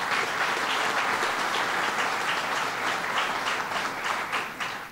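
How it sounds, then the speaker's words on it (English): A large audience at a Greater Binghamton event with Governor Cuomo gives sustained applause to the county executive, a dense steady clapping that fades slightly at the end. "And let me start by giving the county executive a big round of applause, Jason Garner."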